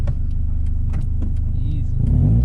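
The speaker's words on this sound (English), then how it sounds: "or you could pop it into second after you've revved it up a little bit" A manual car's engine revs in a steady, close, droning rumble with a slight rise near the end, as a learner works the clutch; a voice speaks briefly underneath.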